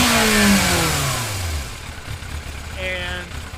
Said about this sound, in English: when I do rev it up, it takes a while to get back down to idle